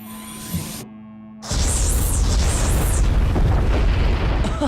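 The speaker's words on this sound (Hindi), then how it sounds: "ब्रिज को उड़ा देना, वो भी जब तुम्हारे टीममेट्स उस पर हो।" In a Hot Wheels cartoon, a bridge is blown up: a short moment of near silence gives way to a loud, sustained roaring explosion with rumbling debris that fills the rest of the clip.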